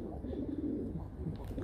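A young pigeon coos softly in a quiet, continuous low warble, close by but faint.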